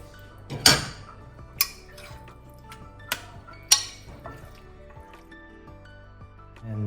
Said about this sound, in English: For the final stage, I'm going to add our fish here.